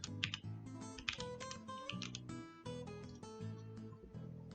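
Close, quick typing on a computer keyboard, a dense run of crisp key clicks in uneven bursts with no voice.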